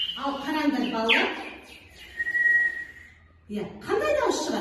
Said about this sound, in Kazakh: Құстың дауысы шығады екен, яғни ысқырғышымыз бүгін біздің құстың торғай тәріздес жасалған екен